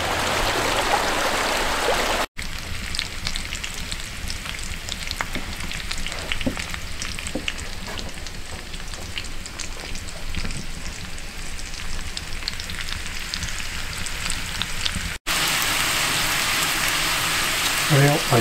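Food frying on an old burner in a cabin: a continuous crackling sizzle with dense, irregular pops, fairly close and steady throughout, with brief breaks near the start and end.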